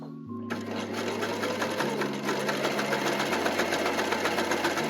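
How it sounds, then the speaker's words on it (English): An overlock sewing machine serges the seam allowance of a dress shirt, a steady fast mechanical whirr with a low motor hum, running continuously and close after a brief quiet start. "Iron the seam allowance to one side so that we can overlock it."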